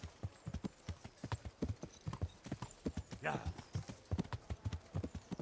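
Horse hooves clip-clop in a steady, brisk rhythm while riding in the video game Kingdom Come: Deliverance, with a brief whinny midway and someone speaking a word.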